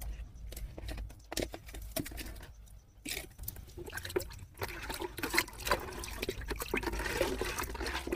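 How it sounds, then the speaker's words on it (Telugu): Homemade NPK flower-booster fertilizer is stirred into a half-full bucket of water, giving uneven splashing and sloshing with short bursts of trickling liquid, close and fairly quiet. "దీన్ని మనము ఒక బకెట్ వాటర్లో ఇప్పుడు నేను ఇది కలిపేస్తాను"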